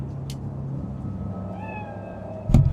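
In the Cyberpunk 2077 video game, a cat lets out a drawn-out meow over a steady low ambient hum, followed by a short sharp thump at the end.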